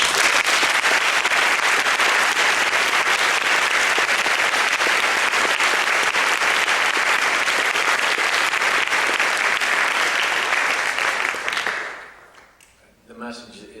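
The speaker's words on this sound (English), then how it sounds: "Another round of applause." A large audience gives a loud, sustained round of applause after a senior's speech, dense clapping holding steady for about twelve seconds before cutting off abruptly.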